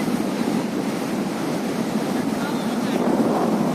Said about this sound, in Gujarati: બોટનો અવાજ, પેલી ભરતી આવી રહી છે.